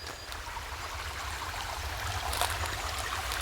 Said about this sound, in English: There is a little creek here,